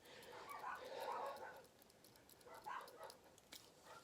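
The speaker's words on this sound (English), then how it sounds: "My dogs are barking." Pet dogs indoors give a few faint, scattered barks and whimpers, distant and brief against a quiet room.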